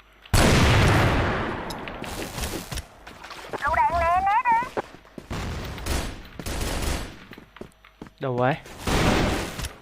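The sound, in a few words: gunfire in a video game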